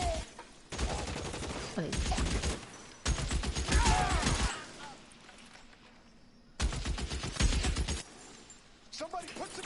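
Video game shootout with bursts of automatic gunfire and rapid machine-gun volleys, loud and close, alternating with brief pauses, while players talk over the shooting.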